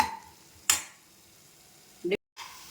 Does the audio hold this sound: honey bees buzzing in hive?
no